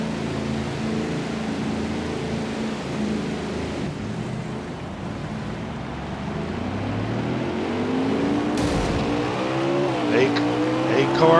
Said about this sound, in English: car is coming out of the pits.